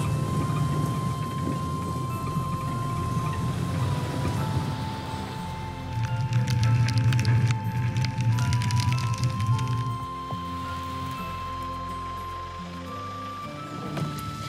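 Steady downpour with rolling thunder in an equatorial forest in Uganda, a dense continuous hiss of rain with low rumbling swells building and fading, close and enveloping, with no voices.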